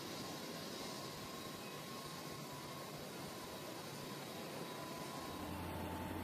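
A passenger airliner readies for departure, its engines producing a loud, steady broadband roar with a faint hum that continues unbroken throughout, with no voices.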